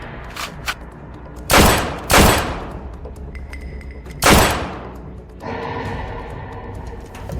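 Gunfire in a staged fight scene: three sharp, loud shots spaced a second or two apart, followed by a rougher blast, against a low background with a few faint breaths or gasps.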